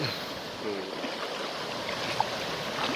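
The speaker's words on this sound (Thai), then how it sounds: "น้ำไหลแรงเชี่ยวมากเลยครับ" Fast-flowing floodwater rushing along a residential street in front of a house, a steady broadband rushing wash throughout at moderate level, with one brief click near the end.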